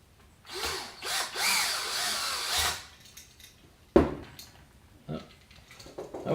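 A power drill tightening a screw on outlet wiring inside an electrical box, with one whirring burst of a couple of seconds, then a sharp clack and a few short, quieter handling knocks, no talking.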